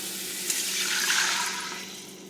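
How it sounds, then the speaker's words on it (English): Water pours steadily into a cooking pot for a couple of seconds, a continuous splashing rush at close range with no talking. "What I'm gonna do is add the water"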